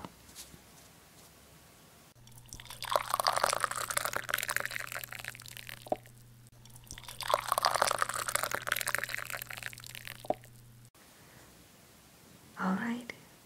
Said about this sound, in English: I'll go ahead and pour a cup for you